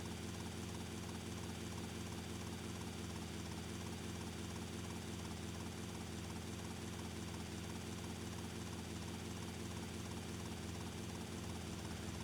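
A helicopter in GTA Vice City Definitive Edition, a steady, dense rotor and engine drone that holds loud and unchanging for the whole stretch, with no talk over it.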